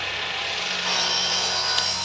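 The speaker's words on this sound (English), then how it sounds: "Last step is the rail cap. And I'm going to cut that just a little bit long because I want a nice snug fit." Hand saw cutting a wooden rail cap for an above-ground pool rail installation, a steady rasping stroke noise that grows slightly louder midway, close and alone.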